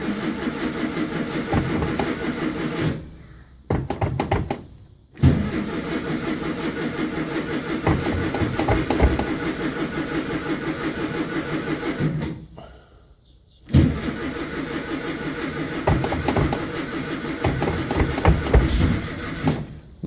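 A bus engine cold-starts on a chilly morning of about 45 degrees: loud cranking bursts with short pauses between them, then the engine catches and settles into a rough, rumbling idle close by.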